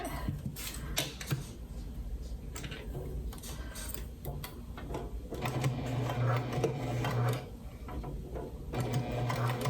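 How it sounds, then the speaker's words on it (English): A sewing machine stitches around joined fabric pouch pieces in a quiet room, its fast rhythmic chatter running in several uneven bursts with short pauses between them. "So I've just taken my 2 pieces and put them together. And we're just gonna sew around it."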